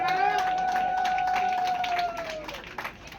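Audience at an inauguration ceremony clapping and cheering in a steady crowd roar, partly masked by a loud sustained tone and an amplified voice, fading out near the end.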